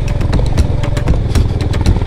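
A Honda CB350RS motorcycle chugs along in first gear, its engine loud and close with a rapid, steady thumping pulse and a little clatter throughout.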